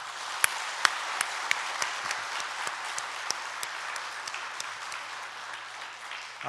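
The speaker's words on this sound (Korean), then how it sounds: "환영하며 격려한 박수 하시겠습니다" Church congregation at a Sunday worship service applauding to welcome a new children's department teacher, a steady wash of many hands clapping with a few sharp nearby claps standing out, fairly even in level before fading at the end.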